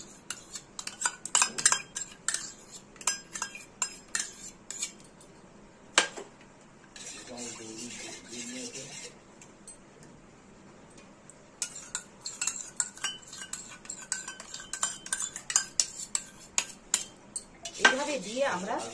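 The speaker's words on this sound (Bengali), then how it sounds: "এখানে আমরা মিষ্টি দইটা ভালো করে আমরা চামচে করে ভালো করে স্মুথ করে" A spoon stirs and scrapes sweet Bengali mishti doi in a bowl, with irregular clinks and knocks against the sides, some bursts rapid and busy, others sparse, close and clear with quiet pauses between.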